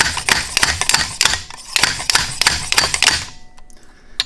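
A slide hammer drives a seal driver to seat the fork oil seal on a 2017 Honda CRF450R Showa fork, giving a quick series of sharp, close metallic clacks that stops abruptly.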